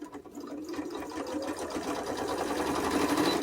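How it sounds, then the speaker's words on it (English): A large embroidery sewing machine straight-stitching around a tag with tan top thread and a white bobbin, giving a steady, rapid mechanical whirr with a fine rhythmic tick, close and continuous throughout. "And I just straight stitch all the way around."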